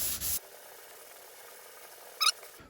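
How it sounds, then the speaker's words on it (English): Sandpaper rubs steadily over cured body filler on a Jeep Patriot body panel during a dent repair, a close, soft rasping scrape running for a couple of seconds with a brief squeaky scuff near the end. "So we'll carry on sanding there."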